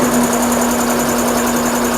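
An EMAX 7.5 horsepower air compressor fitted with Silent Air runs steadily up close, a loud continuous mechanical hum with a strong low tone and rapid pulsing texture, no voices.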